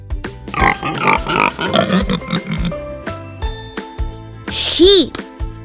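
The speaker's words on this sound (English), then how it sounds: "Pig." A pig oinks and grunts in short, close bursts, then lets out a high squeal, all over cheerful, jingly backing music.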